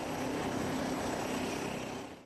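Kenya Air Force military aircraft engines roar steadily at the Laikipia air base while preparing for takeoff. The dense, loud propeller drone holds throughout and then fades out abruptly at the end.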